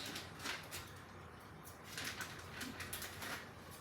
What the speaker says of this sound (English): I'm gonna cut some celery to roast